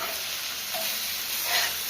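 Steady sizzling and crackling of food frying in a pan, a soft continuous hiss with small pops, no voices.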